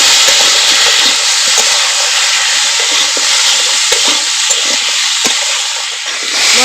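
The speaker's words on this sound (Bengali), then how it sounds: "মশলা দিয়ে ভালো করে কষিয়ে নিয়েছি" Spices and fish frying in a pan and being stirred, with a loud, steady, broad hiss of hot oil and occasional soft scrapes of the spoon, close up, without speech.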